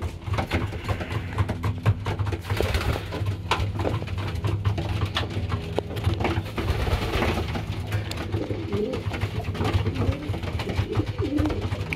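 Pigeons in a loft coo in soft repeated low calls, with wing flutters and shuffling around them, close and continuous.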